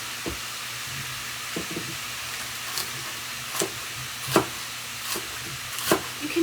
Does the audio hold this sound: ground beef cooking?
yes